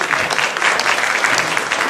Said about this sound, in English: Come on, let's clap it.